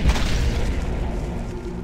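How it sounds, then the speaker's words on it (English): A loud, booming gunshot from the video game Twist of Destiny, a dense rumbling blast that fills about two seconds up close with no gap. "That gun noise sounds so satisfying."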